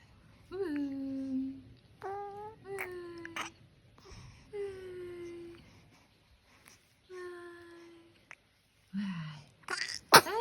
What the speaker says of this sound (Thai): จามสองครั้งแล้วนะ